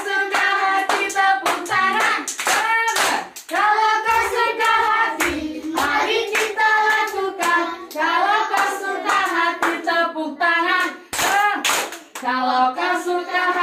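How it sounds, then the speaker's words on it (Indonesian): Children clap along at a fourth birthday party, steady rhythmic hand claps mixed with loud singing and cheerful voices of kids and adults throughout. "Tepuk tangan coba. Tepuk tangan."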